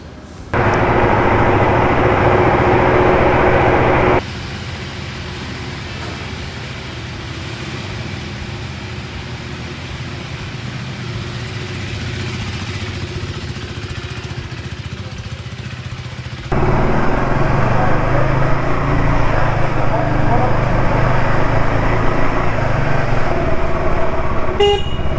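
A KTM 390 Adventure X motorcycle engine running steadily at idle, a constant close mechanical hum that drops in level midway and then rises again with a rougher, busier tone toward the end, with no talking.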